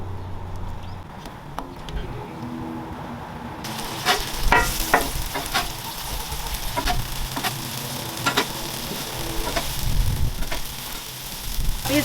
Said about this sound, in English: The first thing I'm throwing down are these sliced tomatoes.